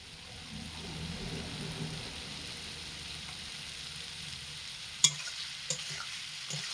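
Pumpkin with sugar and ghee is stirred in a pan, a low, muffled sizzle running steadily, broken near the end by a couple of sharp clinks of the spoon against the pan.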